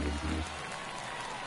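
Stadium crowd noise from the video game MLB The Show 23 during a tense ninth inning, a steady broad murmur and clapping under a commentator's voice.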